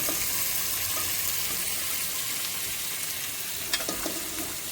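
Onions and chicken fry in a pan, a steady loud sizzle with faint stirring scrapes near the end and no speech over it.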